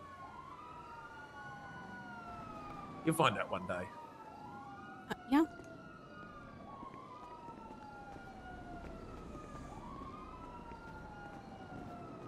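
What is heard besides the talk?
many emergency vehicle sirens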